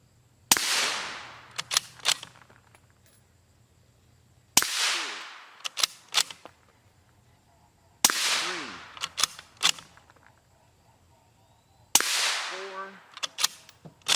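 Four loud rifle shots at an A1 round striking a Hesco 4800 LV Level IV body armor plate, spaced a few seconds apart, each a sharp crack with a ringing decay followed by a few smaller clicks and knocks.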